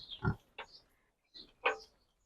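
A few low, close pig grunts on a village farm come in separate bursts with quiet gaps between them, and no voices.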